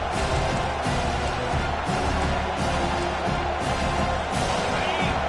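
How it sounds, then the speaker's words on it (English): A home crowd in the NCAA 25 college football video game roars on a third-down defensive stand, a loud continuous stadium wash with slight swells, voices faintly mixed through it. "Here comes this home crowd as the defense tries to get off the field on 3rd down"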